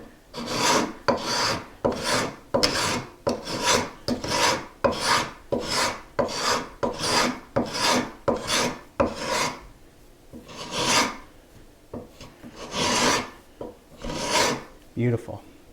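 A handmade wooden spokeshave shaves wood in a long run of regular rasping strokes, about one per second, close and fairly loud, with a few short pauses near the end.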